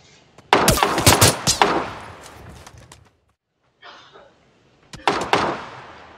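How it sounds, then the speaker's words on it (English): Gunfire in PUBG, two close bursts of rapid, sharp cracking shots separated by a short silent gap, with a few softer distant pops in between. "I'm getting shot at."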